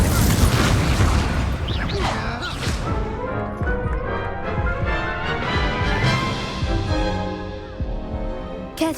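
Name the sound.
spell-casting combat explosions in Hogwarts Legacy video game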